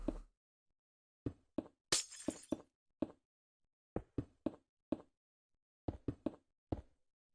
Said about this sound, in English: jump down to add glass blocks to make the sides of a killing chamber